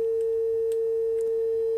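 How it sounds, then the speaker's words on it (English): A Schräg filter synth module, a Bastl Cinnamon clone, puts out a distorted sine wave: a steady, loud, unbroken tone with added overtones, sounding alone with faint faraway clicks behind it. "It can be a pure sine wave or a distorted sine wave, which we're going for here to add extra character."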